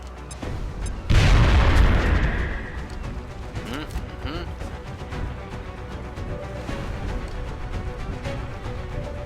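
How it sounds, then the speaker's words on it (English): A grenade explodes in a video game, one heavy booming blast with a rumbling tail, followed by lighter in-game effects and a player talking over the action. "Grenade out!"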